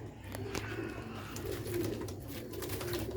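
Sialkoti Chhat wali solar breed pigeons coo close by, soft repeated throaty coos rolling in a loose rhythm over a low background hum.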